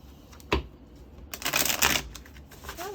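A deck of cards is shuffled for the tabletop game The Light in the Mist. A sharp tap comes first, then a quick, dense riffling burst, with softer handling noise afterward.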